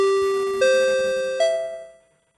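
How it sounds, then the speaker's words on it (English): Paddock announcement chime at a live SCCA road-racing event at Summit Point, ringing three bright descending bell tones in quick succession that ring out and fade over about two seconds, with no talking. "Let me ring the annoying bells one more time."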